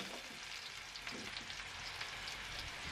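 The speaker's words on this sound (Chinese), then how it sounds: "油热以后加入葱花和生姜末进去炒香" Chopped scallion and minced ginger sizzle and crackle in hot oil in a wok, a steady close frying hiss with small popping bursts and faint stirring, and no talking.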